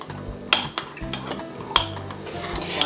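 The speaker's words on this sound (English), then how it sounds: "I'm going to give it a stir." A spoon stirs an overnight oats mixture in a bowl, with soft scraping strokes and a few sharp clinks against the container, close and quiet.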